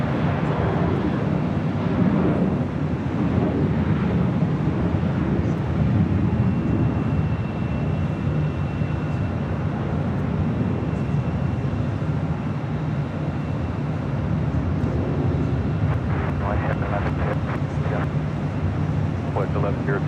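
An American Airlines jet rolling down the runway at Los Angeles International Airport produces a broad, low rumbling roar that persists throughout, with voices speaking over it.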